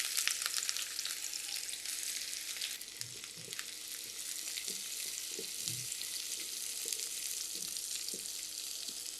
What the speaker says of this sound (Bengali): কড়াইতে দিয়ে 2 টেবিল চামচ তেল। আর এখন পেঁয়াজ দিচ্ছি